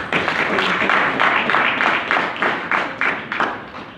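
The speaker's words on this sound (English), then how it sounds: "So can you give him another round of applause?" An audience at a cooperatives climate-action event claps in a steady, rhythmic pattern of repeated bursts, close and moderately loud, with little talk.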